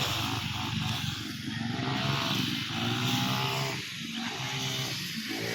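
A grass cutter engine drones on a poultry farm, a loud, continuous buzzing motor note that swells and dips slightly as it works, close by and with no talk over it.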